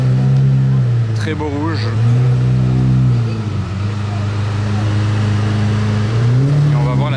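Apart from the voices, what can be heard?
Ferrari with non-original exhaust resonating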